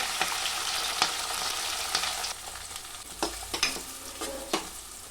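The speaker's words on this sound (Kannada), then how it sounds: "ಕ್ಯಾಪ್ಸಿಕಮ್ಮು ಹಸಿಮೆಣಸಿನ್ಕಾಯಿ ಎರಡನ್ನೂ ಚೆನ್ನಾಗಿ ಆಯಿಲಲ್ಲಿ ಫ್ರೈ ಮಾಡ್ಕೋಬೇಕು" Capsicum and green chillies fry in hot oil with a steady sizzle, broken by a series of sharp spatula scrapes against the pan, closely recorded with no talking.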